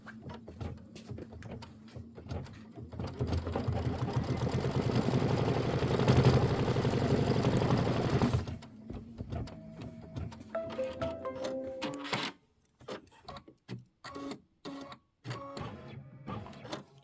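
A Kimberbell embroidery machine stitches a tack-down line on fabric. It runs for about eight seconds as a loud, rapid mechanical whirring chatter, then drops to quieter, stop-start motor whirs and clicks.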